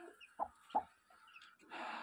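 A broody hen clucks softly over her newly hatched chicks: two short, separate clucks close by, followed by a brief burst of rustling.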